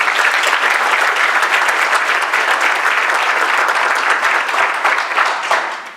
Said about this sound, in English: please give the Junior League ladies a round of applause as well